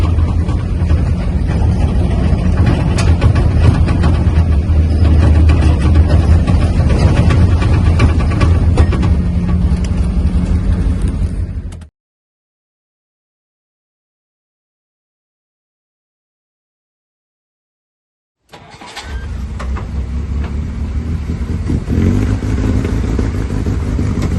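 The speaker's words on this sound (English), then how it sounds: "The Jeep is actually very smooth and nice and steady and straight." A right-hand-drive 1954 Willys Jeep CJ5 drives along with a loud, continuous engine rumble and road noise close by. The sound cuts out to silence for several seconds, then the engine drone resumes.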